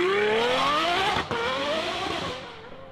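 A car engine that seems to be seizing up roars loudly and steadily, its pitch climbing, then stutters with a brief dropout near the middle before continuing and fading slightly.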